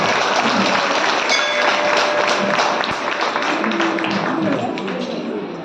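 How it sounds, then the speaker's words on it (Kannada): An audience claps loudly at the opening of a children's camp. The applause is dense and sustained, with scattered sharp claps and some voices mixed in, and it eases slightly toward the end. "ಜೋರಾದ ಚಪ್ಪಾಳೆಯನ್ನ ಈ ಒಂದು ಶಿಬಿರದ ಪ್ರಾರಂಭಕ್ಕೆ ನಾವು ಮಾಡೋಣ."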